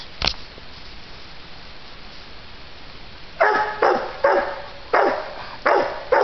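Hunting dogs bark at a raccoon up a tree, several loud sharp barks in an irregular run after an early single yelp and quiet outdoor background.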